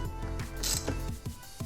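A collar on top of an Aprilia Tuono V4 motorcycle gas tank is tightened with a close, quiet rhythmic ratcheting of about seven clicks, plus a brief scrape in the middle.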